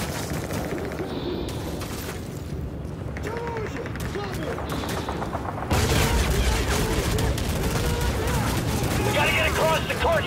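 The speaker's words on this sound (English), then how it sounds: "Frost, French, lay down cover fire!" Gunfire rattles in a Call of Duty: Modern Warfare 3 battle, with dense bursts and booms throughout that grow heavier midway, mixed with soldiers shouting orders.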